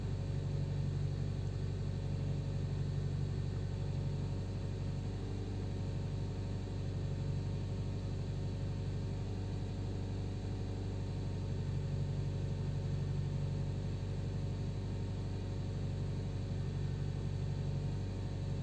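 A Nissan Tiida engine idles steadily during throttle body programming, a constant low hum and rumble with no change in pitch, close by and uninterrupted.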